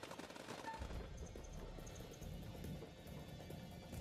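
Rapid automatic gunfire from a battlefield firefight in the video game House of Ashes rattles continuously at a moderate distance, with dense overlapping shots and no speech.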